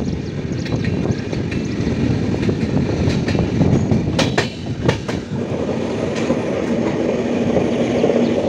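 A long-distance train from Tirur to Bangalore running on rails, heard from inside as a steady loud rumble with rhythmic clickety-clack of wheels over track joints throughout.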